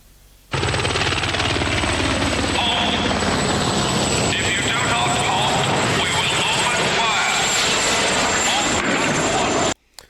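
Helicopter flying overhead in a grim wartime setting, a loud, steady rotor and turbine roar that holds nearly constant for about nine seconds before cutting off abruptly.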